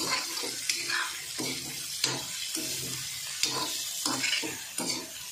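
Prawns fry in masala in a pan, hissing and sizzling steadily while a spoon scrapes and stirs in regular strokes close by.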